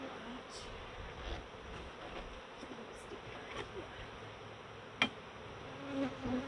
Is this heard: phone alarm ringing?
no